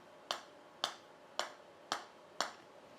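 Five crisp, sharp clicks of a Titleist Pro V1 golf ball being tapped in a sound test, evenly spaced about half a second apart, close and fairly quiet against a near-silent background.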